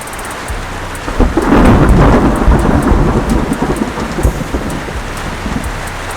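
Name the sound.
thunderstorm with heavy rain and thunder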